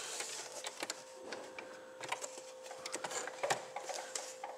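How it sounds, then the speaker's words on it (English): A sewing machine stitches a zipper into paper, a faint rapid ticking and clatter of the needle that keeps up a steady rhythm throughout. "So I just forward stitch and back stitch just a little bit to get it started."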